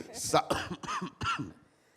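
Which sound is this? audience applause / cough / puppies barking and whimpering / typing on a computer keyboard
cough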